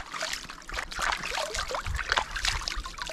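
Water running and trickling over a freshly plucked chicken as it is rinsed outdoors, a steady splashing flow with irregular drips and gurgles, close by.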